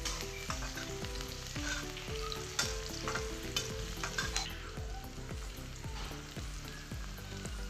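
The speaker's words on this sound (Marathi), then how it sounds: "कापलेला कांदा कांद्याला थोडा गोल्डन कलर येईपर्यंत भाजायचा आहे" Chopped onion fries in a pan, browning for mutton paya soup, giving a steady close sizzle with repeated stirring scrapes throughout and no talking.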